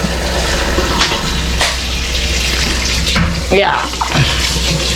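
Water runs in a loud, steady rush from an outdoor source while someone drinks after a long walk; a brief voice cuts in near the end.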